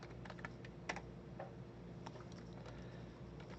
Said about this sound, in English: No matter which key I pressed on my keyboard